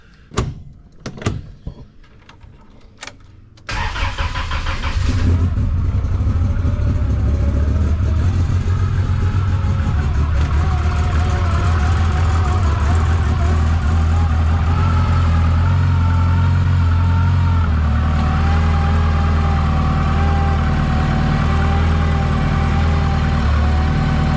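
A turbocharged Toyota 3RZ engine opens with a few clicks and knocks, then cranks and catches around four seconds in, settling into a loud, steady idle with a droning hum that continues to the end.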